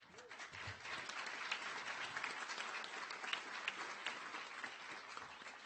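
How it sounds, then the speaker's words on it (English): Graduates applaud at a commencement ceremony for business, informatics, computing and education schools, a dense, steady crowd clapping that fills the whole stretch at an even level. "Please take the time to give yourself a round of applause for all of the hard work,"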